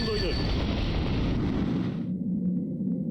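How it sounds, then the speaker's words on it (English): Guilty Gear Xrd Rev 2 fighting-game gatling combo: a dense chain of punch, kick, slash and heavy slash hits with booming impacts and effects, cutting off sharply near the two-second mark to a quieter low hum. "this is the Gatling in Guilty Gear Xrd Rev 2"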